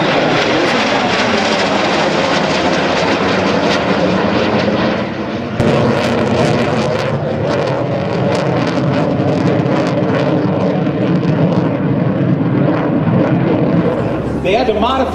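An F-100F Super Sabre jet at an air show makes a loud, continuous engine roar that swells and rumbles up close, with an announcer speaking over the noise throughout.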